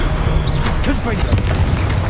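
A Confringo spell blast in the Hogwarts Legacy video game: a deep, booming impact with crackling debris, heard close and loud under overlapping voices.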